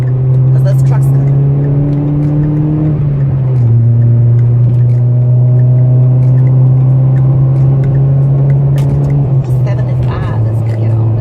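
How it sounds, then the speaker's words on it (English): Interstate traffic noise from a motorcycle ride, with a loud steady engine drone and a truck passing close by, its rumble rising and shifting partway through. "I got to get on the interstate. Hang on. Because this truck's coming."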